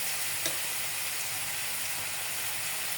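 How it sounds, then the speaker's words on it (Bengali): Spices frying in a pan for an eggplant pickle give a steady, dense sizzle that runs unbroken and fairly close, with one faint stirring knock near the start and no talking. "এখন মশলাগুলো ভালো করে আমি কষাবো।"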